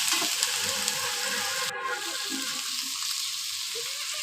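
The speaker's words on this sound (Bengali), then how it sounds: "টমেটোগুলো আবার ভালো করে সেদ্ধ করে নেবো এবং ভেজে নেবো ভালো করে" Tomatoes frying with onion paste in a pan give off a steady close sizzle with occasional stirring scrapes and no talking.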